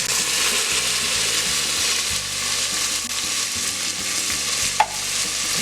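Canned tomato poured over toasted fideo noodles fries in a hot pan, a loud, steady sizzle with stirring scrapes throughout and a brief clink near the end.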